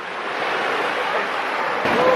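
Broadband surf and wind wash steadily across a beach in Portugal, with waves rolling in continuously at moderate loudness and a slight swell in level near the end.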